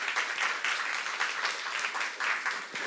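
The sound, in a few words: church congregation applause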